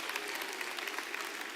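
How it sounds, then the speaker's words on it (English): Steady applause from a crowd at a gala awards ceremony honoring performers, dense clapping sustained evenly throughout with no voices standing out. "let's give them another round of applause"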